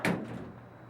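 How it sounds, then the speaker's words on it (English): A single door swings shut with one solid thud up close, the sound quickly fading into a quiet room. "Hey, can you hold the door, please?"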